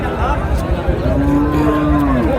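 A cow lets out a long, drawn-out moo close by at a cattle market, with a low murmur of voices and farmyard noise around it.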